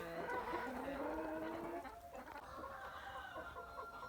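Year-old Minorca hens and young Leghorn layers cluck softly in a quiet poultry yard, low and scattered calls at close range with no talking.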